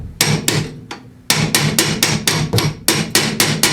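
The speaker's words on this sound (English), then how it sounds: "Here's a lead hammer, lead of brass." Repeated sharp lead hammer strikes ring on the metal of a Craftsman 27-inch snow blower with an 8hp Briggs & Stratton OHV engine, about a dozen quick taps in an uneven rhythm with a short pause partway through.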